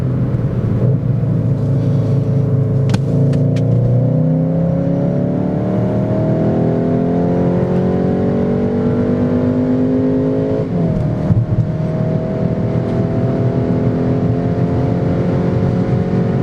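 A new Skoda Octavia RS Combi with a seven-speed double-clutch gearbox accelerates hard on a German Autobahn, engine pitch climbing steadily, dropping at a quick upshift, then climbing again under heavy road and wind noise.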